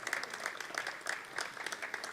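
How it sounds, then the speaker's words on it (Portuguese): Applause for the representative of the Brazilian imperial family at a commemorative ceremony, a quiet, somewhat distant crowd clapping steadily throughout with no break. "convida a todos para uma efusiva salva de palmas"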